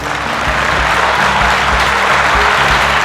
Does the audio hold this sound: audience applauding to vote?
yes